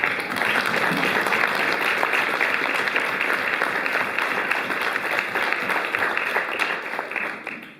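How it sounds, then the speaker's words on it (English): Steady applause from a sizeable audience, dense clapping sustained throughout and tapering slightly at the end. "Let's give you a round of applause"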